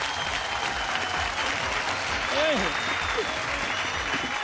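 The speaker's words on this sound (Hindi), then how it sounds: "जोरदार तालियां इनके लिए।" Loud crowd applause at a fair-style talent contest finale, a continuous dense clapping roar, with a few brief whistles or voices cutting through near the middle.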